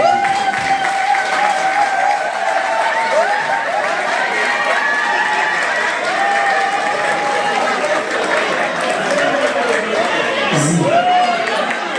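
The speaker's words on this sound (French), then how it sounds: "Applaudissons encore." An audience at an anniversary party keeps up steady applause in a busy room, with voices and raised, tonal calls mixed over the clapping for the whole stretch.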